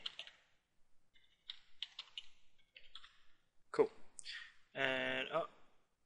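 Short bursts of clicking keystrokes on a computer keyboard while a password is typed in, coming in uneven clusters, with a brief vocal sound and a louder voiced noise near the end.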